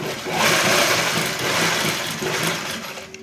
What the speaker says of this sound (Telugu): ఒకటికి రెండు సార్లు కుట్టు వేసుకోండి